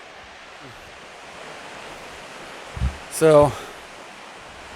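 Steady soft rushing of a river flowing near a campsite fills the background throughout, low and even, with a brief spoken word and a short voiced sound near the end.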